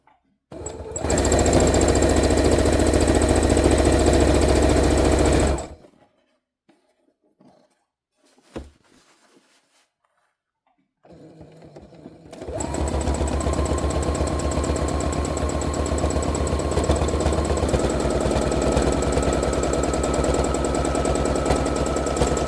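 A sewing machine stitches around the leg and tail of an art quilt, roaring in a loud, fast mechanical rattle for several seconds, falling silent apart from a brief clunk, then running again steadily.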